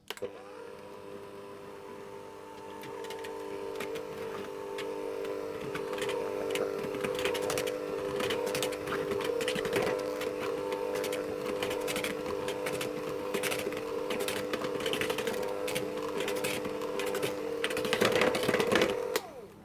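An electric mixer runs on low speed through shortbread dough, giving a steady motor hum with a dense rattling, ticking texture that continues for about twenty seconds.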